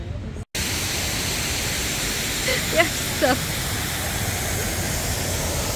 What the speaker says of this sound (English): It's got a waterfall over there too.